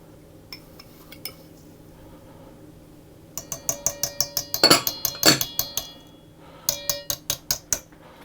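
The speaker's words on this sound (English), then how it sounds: "I'm going to stir those and get those fully combined." Graham crackers, almonds and coconut are stirred together in a bowl, making two bursts of rhythmic clinking scrapes of a utensil against the dish, close and fairly loud, after a quiet start.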